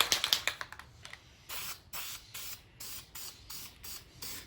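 An aerosol can of primer sprays onto a BMW E46 hood: first quick rattling clicks, then a series of short hissing bursts in steady rhythm, close and moderately quiet.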